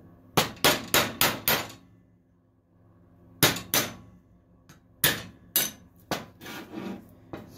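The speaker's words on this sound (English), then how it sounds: "just make sure I only hit the bearing. Don't want to hit the inside of the steering knuckle." Hammer knocking a wheel bearing out of a steering knuckle on a Hisun Massimo 700 UTV: sharp metallic blows, a quick run of four, a pause, then irregular single and paired strikes, close and loud.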